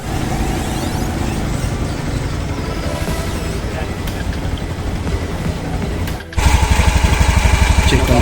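A motorcycle engine runs steadily at idle close by, then rises abruptly into a louder, throbbing rev near the end, on a mountain expedition trip.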